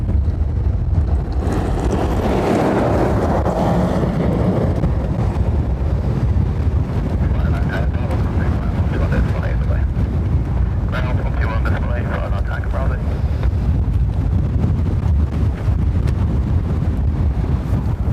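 Strong crosswind at Dublin Airport buffets the microphone in a continuous loud, low roar and rumble, with gusty surges and distant aircraft noise blended in, and a voice talking faintly underneath.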